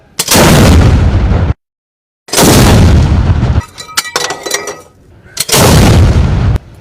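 Celebratory gunfire rings out in loud, long roaring bursts of shots, three heavy volleys separated by brief silences and a stretch of scattered crackling pops.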